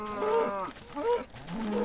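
Cows in the Minecraft video game moo in three drawn-out, close, fairly loud calls one after another, with little else around them.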